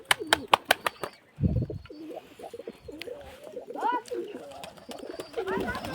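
Pigeons coo softly nearby, with a burst of wing flapping and sharp clapping wingbeats, while a person talks over the birds.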